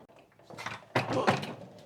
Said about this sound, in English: That's a heavier door than it looks.